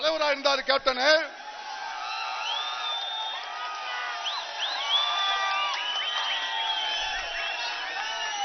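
A crowd of party supporters and members of the public at a political rally cheers and whistles, a sustained wash of shouts and high whistles running for several seconds after a burst of close, loud sound at the start.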